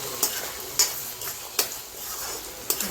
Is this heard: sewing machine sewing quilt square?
no